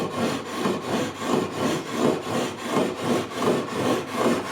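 400 grit sandpaper rubs back and forth across the frets of a 1979 Fender Stratocaster during a re-fret, a close, steady rhythmic rasping of about two strokes per second, with no talking.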